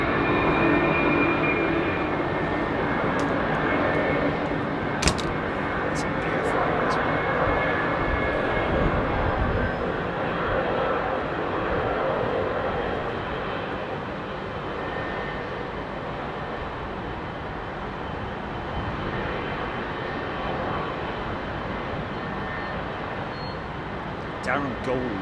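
Aircraft engines at London Heathrow give off a steady, broad whirring roar from their blade tips, sustained for the whole stretch, with voices talking over it.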